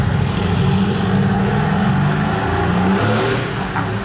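Mercedes-AMG GT R sports car on the street in Monaco, a loud, close engine roar held steady and revving throughout, heard on its own with no talking.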